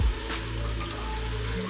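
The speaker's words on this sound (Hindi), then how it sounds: "थोड़ा सा पानी और डालेंगे।" Water is poured into a pot of chicken biryani cooking with tamarind and dried plums, a steady, soft splashing stream over a low simmering hum, with no talking.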